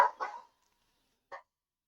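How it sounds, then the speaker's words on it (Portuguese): A dog barks twice, a quick pair of close barks followed after a pause by a single shorter bark, alone without talk. "É cachorro latindo"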